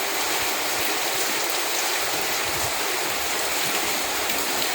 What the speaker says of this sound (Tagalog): Kasi sobrang lakas talaga ng ulan.